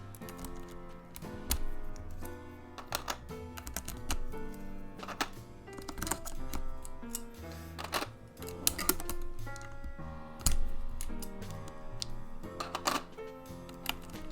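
Busy, steady tapping of a mechanical keyboard with PBT keycaps, an aluminum plate and tactile switches, deep-toned keystrokes and occasional louder thocks running continuously over faint background music.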